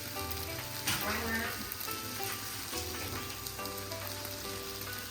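Three eggs frying in a little oil in a pan for hibachi meal prep bowls, a steady soft sizzle and crackle running throughout, fairly faint, with a voice talking over it.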